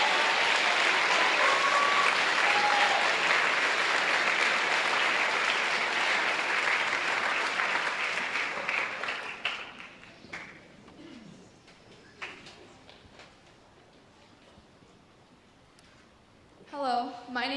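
A concert audience at a spring school orchestra concert applauds the senior players in a long, full round of clapping that thins after about nine seconds into scattered claps and quiet, with a short noisy burst near the end.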